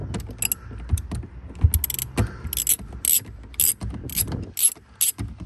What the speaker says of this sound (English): I'm just in there about to unloose the screw here